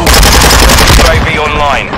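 Dense, loud automatic gunfire from the Call of Duty video game rattles continuously, with overlapping rapid bursts and shots that trail off into a whistling, swooping tone near the end.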